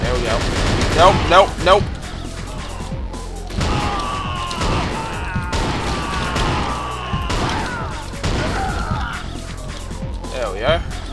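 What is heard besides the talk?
rocket launcher firing and explosions in video game NeoDoom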